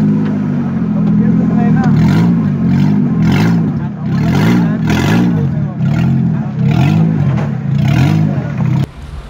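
A 2007 Ford Ikon's stock exhaust is revved hard close by, roughly eight loud, rhythmic throttle blips rising and falling over a rumbling idle before cutting off sharply at the end.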